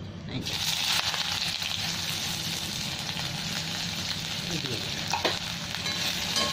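Onion and spices sizzle and crackle steadily in hot oil, with a few soft scrapes of stirring.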